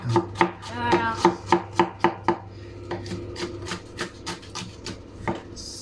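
Onions being chopped on a board while making a turkey breast dish with curry sauce, a rapid series of sharp knife strikes, fairly close and loud, slowing into softer cuts.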